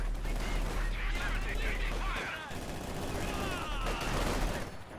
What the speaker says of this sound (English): MG34 is not the best machine gun.